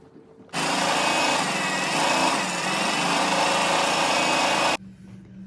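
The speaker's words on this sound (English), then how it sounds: "now we'll sew along the sides of the fabric" A sewing machine stitches along the sides of fabric for a face mask, starting abruptly into a loud, fast, even whirring run that holds for about four seconds before cutting off.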